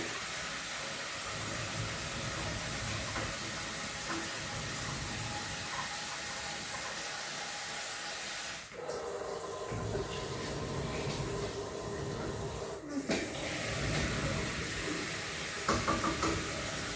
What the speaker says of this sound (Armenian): Մի անգամից ջուր եմ ավելացնում, շատ քիչ ջուր կավելացնեմ